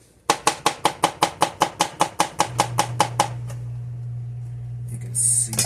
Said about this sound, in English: Finally chopping the garlic.